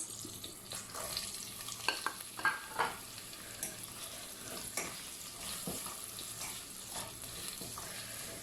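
Chopped onions sizzle steadily in a pan while mutton keema is being prepared, with a constant hiss and a few sharp clicks and clatters of stirring on top.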